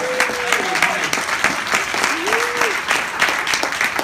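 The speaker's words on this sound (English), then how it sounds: "Please give him a round of applause." Audience applause at the 2015 Nu Skin expo in Anaheim, California, a steady, loud wash of clapping from a large crowd that fills the whole stretch, with voices faintly mixed in underneath.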